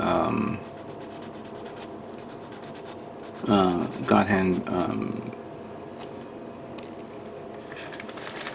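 Steady, soft abrasive rubbing of sanding paper strips on a 1/35 scale model truck kit continues throughout, with a person talking briefly in the middle over it.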